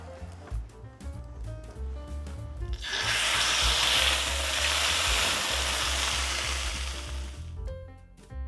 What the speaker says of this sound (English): And then we're gonna make a lot of sizzly noise.